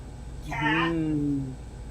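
A cat gives a single drawn-out meow, rising and falling over about a second, close by against a quiet background.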